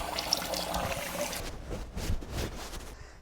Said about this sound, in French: j'ai du savon sur le visage, je peux me rincer?